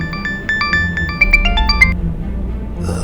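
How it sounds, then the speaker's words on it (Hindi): A phone ringtone plays a quick electronic melody of bright beeping notes for a couple of seconds, then stops, with low background hum beneath. "घर से बार बार फोन आ रहा है"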